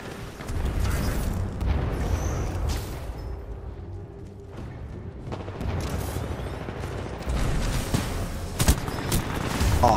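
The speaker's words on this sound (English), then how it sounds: "Grenade." Combat in Titanfall 2 with a grenade going off amid continuous gunfire and booming blasts, a dense mid-level barrage with a few sharper hits toward the end.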